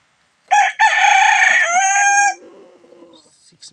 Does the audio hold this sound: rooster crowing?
yes